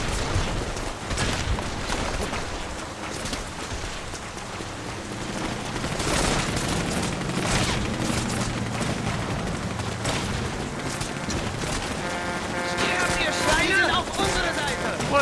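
Gunfire rattles through a busy stretch of The Saboteur, bursts and booms layered with music and ambient noise over the whole span, heaviest around the middle and again near the end.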